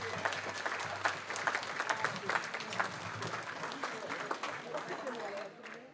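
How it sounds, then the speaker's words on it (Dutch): Audience applause at a Mol municipality year-in-review event, steady clapping with some crowd noise and voices mixed in, tapering off near the end. "Nog eens een heel dik applaus"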